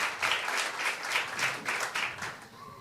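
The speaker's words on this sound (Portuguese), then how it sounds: "Aplaude ao Senhor Jesus bem forte" A church congregation at an anniversary festival service in Rocinha, Rio de Janeiro, claps together in a steady, rhythmic pattern of beats, moderately loud and without talk.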